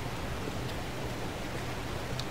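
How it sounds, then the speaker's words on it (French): Rain in Rainbow Six Lockdown hisses steadily, a constant even wash of broadband noise with no breaks, and a few faint ticks sit on top. "Et de la pluie pour l'ami Kiwi"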